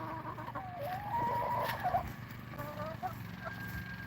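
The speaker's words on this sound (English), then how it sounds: "Some of these are first year chickens." First-year backyard chickens clucking nearby on a homestead, several short warbling calls over a low background hum with a voice under them.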